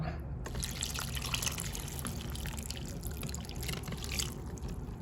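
Water pours steadily into a pot while Thai-Lao cooking, a continuous close splashing trickle lasting throughout without talk.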